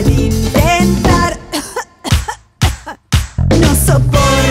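Several harsh coughs burst out in uneven bursts within a children's song about a cough, framed by sung, voiced passages and set close and loud.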